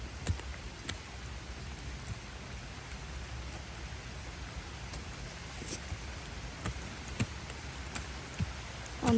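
Rain falling in a forest during wild mushroom hunting: an even, steady hiss of rainfall with scattered sharp drop ticks on nearby surfaces, and no voices.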